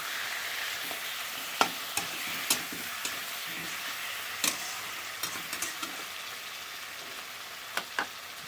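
Marinated chicken frying in a pan sizzles steadily at low volume, with scattered utensil taps and scrapes from stirring spread throughout.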